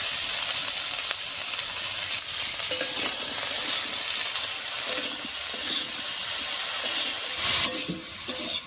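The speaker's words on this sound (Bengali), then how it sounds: "ফোড়নের উপরে ঢেঁকি শাক আর আলুটা দিয়ে একটু নাড়িয়ে নিয়েছি।" Dheki shak greens and potato fry in a tempering of spices, giving a steady, close hiss and sizzle with occasional scraping as they are stirred in the pan.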